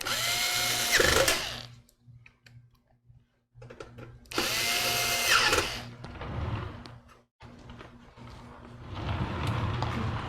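A power screwdriver drives fine threaded screws into a PC case, whirring in three loud bursts of a second or two each, with short quiet gaps and faint handling noise between them.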